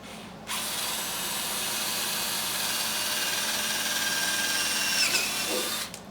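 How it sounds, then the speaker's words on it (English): A power drill fitted with a dull bit bores through wood, giving a steady, loud, high-pitched whine that holds for about five seconds before stopping. "I know my drill bit's gonna go through there"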